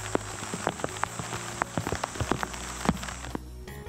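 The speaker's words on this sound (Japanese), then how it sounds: "突然雨が降り出した後には張りたまった雨粒が神秘的に揺れていました" Sudden rain falling around the lotus pond of a temple precinct, scattered drops striking leaves and water in an irregular patter, close and moderately loud, with no voices.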